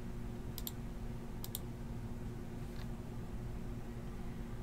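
Computer mouse clicking at a desk during a baseball card box-break session, two quick pairs of sharp, crisp double clicks over a steady low hum, with no talking.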